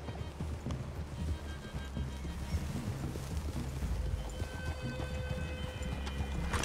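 Horses in the video game Red Dead Redemption 2 move at a walk, their soft hoof clip-clops and tack rustle continuous under a steady outdoor wind-like ambience, with faint tonal game sound in the background.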